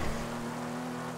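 A car engine drones steadily in a video game, a sustained motor hum at a constant pitch, loud and alone, with no talk over it.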